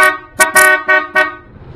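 A Honda ADV motorcycle's big aftermarket horn honks in a few short, loud blasts with brief gaps, close by, one blast held slightly longer than the others.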